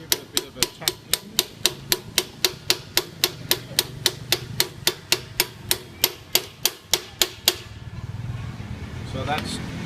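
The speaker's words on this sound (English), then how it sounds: "With the socket, now give it a bit of a tap in." A socket is struck repeatedly with sharp metallic taps to drive a front wheel bearing into the hub of a vintage Vespa scooter, about twenty-five evenly spaced knocks close up, then stopping as faint background noise remains.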